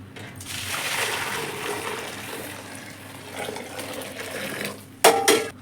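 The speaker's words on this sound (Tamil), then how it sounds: "மெதுவாக இப்படியே தண்ணி ஊற்றிக்கலாம்." Hot water pours steadily into a metal pot holding brinjals for several seconds, a continuous splashing wash, ending with a few sharp clanks of the pot.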